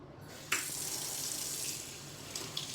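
Water runs steadily from a kitchen tap while a pot lid is rinsed under the stream, with a few soft clinks and splashes as the lid shifts in the flow.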